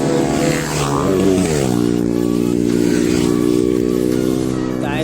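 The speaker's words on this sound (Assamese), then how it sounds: "এতিয়া আমি বাইক ষ্টাৰ্ট কৰোঁ আৰু যাওঁ।" A Royal Enfield motorcycle engine thumps loudly up close, its pitch climbing as the throttle opens before it settles into a steady running drone as it rides off.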